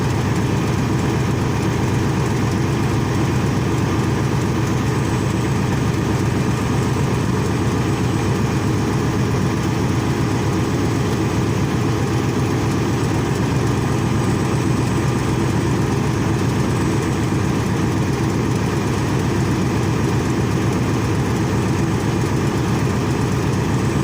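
A truck's diesel engine is held at a raised speed of about 1,000 RPM, a loud, steady, close rumble that continues without a break.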